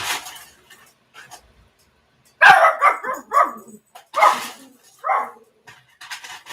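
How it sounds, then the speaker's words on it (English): A dog barks several times nearby in loud, sharp bursts, with short pauses and a few fainter yips between. "I really do apologize for the barking."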